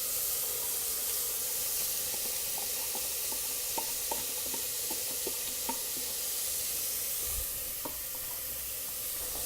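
Onion, garlic and carrots frying in a pan for pasta bolognese, a soft steady sizzle and hiss with a run of light clicks from stirring, fairly faint and close.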